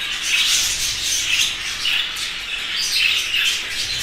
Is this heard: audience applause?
no